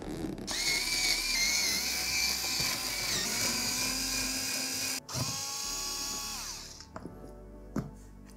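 A power driver whines steadily while unscrewing the bolts on the back of a gaming chair, a loud sustained motor tone that briefly stops, restarts with falling pitch, then ends with a few clicks.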